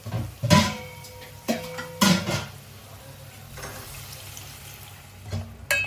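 Water poured into a pan of dry fish and tomato curry, with splashes and clattering of pot and utensil that come in short bursts, heard close up and with no talking.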